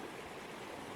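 A snowmelt-swollen creek in Colorado's Poudre Canyon rushes steadily in full flow, a close, even broadband wash of water with no break.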